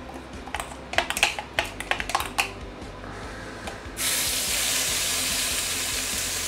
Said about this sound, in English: So I'm going to saute my chili paste first.